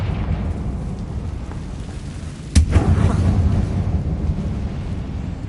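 Confringo blasting spell fired inside a closed mine in Hogwarts Legacy: a single sharp explosive burst midway, followed by a rumbling low-end tail over a steady background hum.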